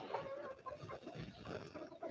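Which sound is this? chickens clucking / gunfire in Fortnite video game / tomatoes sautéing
chickens clucking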